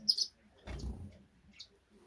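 Small finches or mannikins in a birdshed give a few quick, high, faint chirps, separated by a soft low thump of movement nearby.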